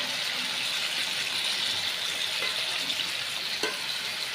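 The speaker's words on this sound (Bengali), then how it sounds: "পুরা আমি এখন এই আলুগুলো সবগুলো তেলে দিয়ে দিব ভাজার জন্য।" Seasoned potatoes frying in hot oil give a steady, loud, dense sizzle that runs without a break, with a couple of faint clicks near the end.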